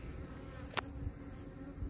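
Soft, steady honeybee buzzing around a hive fills a quiet outdoor scene, with a brief sharp click partway through; the drone stays faint and continuous.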